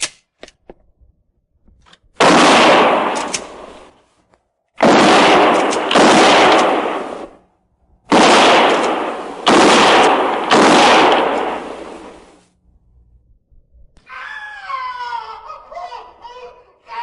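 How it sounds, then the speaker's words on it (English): Loud gunfire sound effect from an old-time radio western drama, several sustained bursts of shots in a forest setting with short gaps between them, followed by a quieter, scratchy trailing sound. "And no more than 3 rounds each. Fire between the trees."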